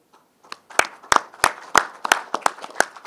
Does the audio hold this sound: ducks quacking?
no